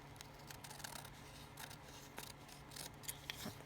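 Scissors trim a paper embellishment for a journal, making faint, quiet snips and small crisp cuts close by with no talking.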